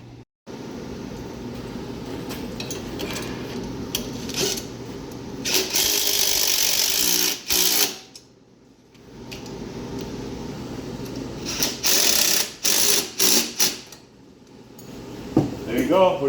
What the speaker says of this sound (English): Okay. Let's bolt it on.